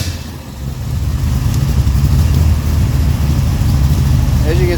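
Car engine with its muffler removed, warmed up and idling steadily around 1,000 RPM, a continuous loud low rumble throughout with faint voices in the background.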